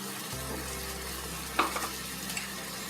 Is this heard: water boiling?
yes